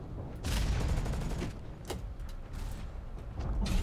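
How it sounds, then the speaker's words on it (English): Gunfire crackles through a battle in the mech shooter Hawken, a run of sharp bursts and thuds over a continuous mechanical rumble, fairly close, with no talk. "Somebody else is shooting me."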